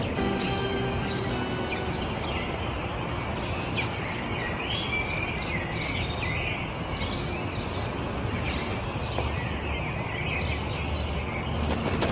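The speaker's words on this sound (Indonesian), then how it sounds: "Τι είναι αυτό? Ένα σπουργίτη." Sparrows chirp repeatedly in short high tweets with bursts of wing flapping, a busy continuous bird chorus heard up close against steady background noise.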